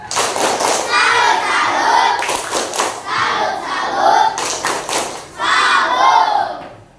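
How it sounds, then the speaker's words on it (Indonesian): A classroom of students claps a loud rhythmic salute clap in fast patterned bursts, close and energetic, with children shouting and chanting along between the claps. "tepuk salut dulu untuk Ibnu."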